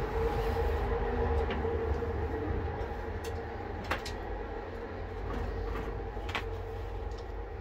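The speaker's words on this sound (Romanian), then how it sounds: "Asta e trenul ăla cu care a plecat regele Mihai cu 50 de tone de aur." Rail ambience around the royal train of King Michael I of Romania, a steady low rumble and hum with a few faint clicks and clanks, fairly even throughout, without talk.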